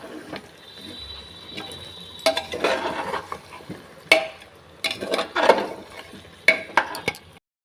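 Large chunks of potato are stirred and mixed with spices in a cooking pot for a meat curry, giving intermittent scraping and clattering stirs that come in bursts of varying loudness, close up with no talking.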